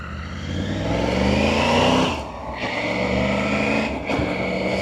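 A 2024 Triumph Tiger 900 GT Pro motorcycle accelerates hard with a steady loud engine drone, its pitch climbing then cutting briefly at two quick-shifter gear changes before pulling on again.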